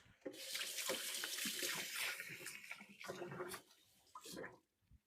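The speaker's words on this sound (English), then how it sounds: "Let me give my hands a quick wash." Hands being washed under a running kitchen tap, steady close water flow splashing over the hands for several seconds before cutting off near the end, no speech.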